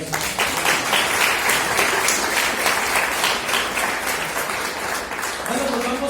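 Loud, dense applause from a church congregation during a service, steady throughout, with a voice entering near the end.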